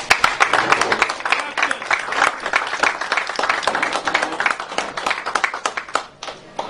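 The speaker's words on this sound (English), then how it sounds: "Give a big round of applause for Boyd Melson" A press-conference audience breaks into sustained applause for an upcoming pro debut: dense, loud clapping from many hands that carries steadily through the whole stretch, easing slightly near the end.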